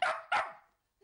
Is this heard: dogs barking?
yes